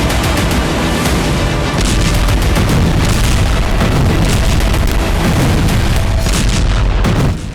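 Heavy bombing and rocket strike explosions, a dense barrage of loud booms and crackling blasts following one another almost without pause for the whole stretch.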